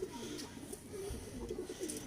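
Pigeons coo softly in a loft, low murmuring calls repeating close by over a steady background hum.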